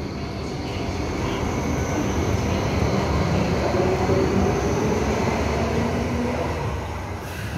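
A Hong Kong light rail train pulls away from Tin Sau stop, Tin Shui Wai, its low rumble and rolling wheels loud and steady before easing off slightly at the end.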